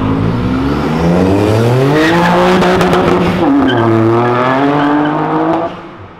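A Chevrolet Caravan engine revs hard and climbs through gears with rising, falling pitch, loud and close, with some tire noise before fading at the end.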